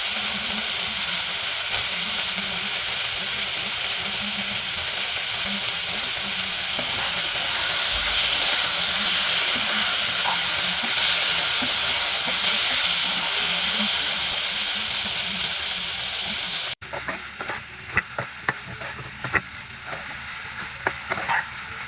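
Beef frying with carrot, capsicum and onion for a restaurant-style Bangladeshi Chinese beef sizzling dish, a loud steady sizzle and hiss of oil and steam that runs close and continuous, then cuts to a quieter, sparser crackle near the end.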